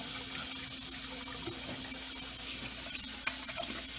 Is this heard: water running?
yes